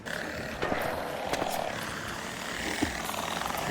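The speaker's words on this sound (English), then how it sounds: "Why are there 4 drones following me, dude?" Several armored drones in the video game ARC Raiders chase a player with a continuous whirring, rotor-like hum, fairly faint and steady, with a few louder swells along the way.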